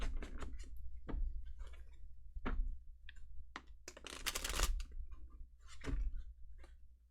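Tarot cards are shuffled in soft, quiet bursts of riffling and tapping. Sharp clicks and a longer papery flutter come and go with short pauses, close and faint, with no talking.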